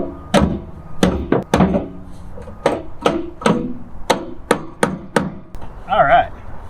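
A small travel-size hammer taps metal on a 1992 Chevrolet conversion van, a string of sharp, close knocks in an uneven rhythm, about a dozen strikes, ending with a brief creak.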